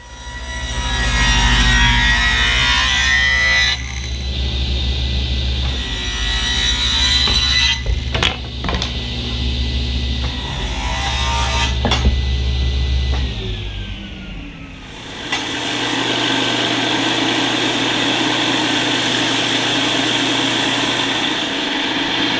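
A belt sander shapes wooden paddle stock for a turkey call in a continuous, loud abrasive rasp that shifts in pitch and texture as the work changes, with no speech.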